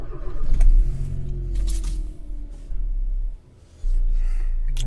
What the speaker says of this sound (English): now we're gonna go engine running